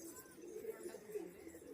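A steady, murmuring coo from giribaz pigeons at a Murshidabad pigeon sale pulses gently in a few soft swells, close and fairly quiet, with little talk over it.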